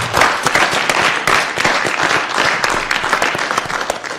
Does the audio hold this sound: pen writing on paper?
no